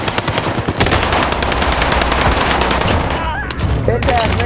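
Rapid, sustained automatic gunfire in Call of Duty Warzone on Fortune's Keep, dense bursts of shots cracking nonstop for several seconds, loud and close, with game effects layered on top.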